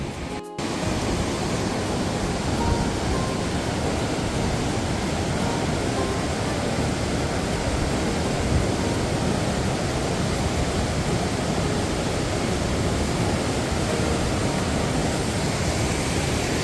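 A small waterfall beside a glacial river on the Langtang trek in Nepal pours in a steady, dense rush of white water, loud and unbroken throughout, with no talking over it.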